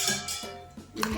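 A metal spoon clinks against a bowl while curd is added to moong dal batter, giving a few quick close scraping taps with no talk.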